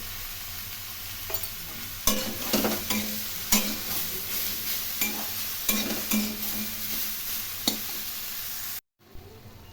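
Broccoli curry stir-fried with salt and turmeric hisses in the pan while a spatula scrapes and clacks at irregular intervals, close and steady, ending in a brief cut near the end; no speech.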